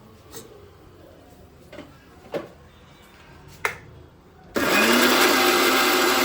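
A kitchen mixer grinder whirs loudly and steadily, grinding mint chutney made with coconut, tamarind, salt, green chillies and dried red chillies; it starts abruptly after a few soft clicks and taps and runs continuously to the end.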